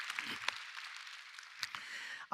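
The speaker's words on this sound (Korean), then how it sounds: "좋으신 하나님께 박수로 감사합니다" A Korean church congregation gives God a round of applause in thanksgiving, a brief spread of scattered claps filling the hall with a few louder individual hits.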